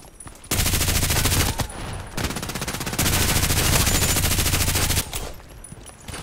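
Rapid automatic gunfire in the online shooter Contract Wars, several long sustained bursts of dense, loud shots separated by brief pauses, with no voices.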